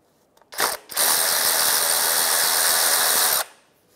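A 15 mm socket on a ratchet loosens a starter bolt on a 2005-2010 Chevrolet Cobalt, a brief click then a loud, fast, continuous ratcheting whir lasting about two and a half seconds, close up with no talk.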